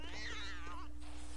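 A cat gives one drawn-out, wavering meow close by over a low steady hum, followed by a brief quieter rustle.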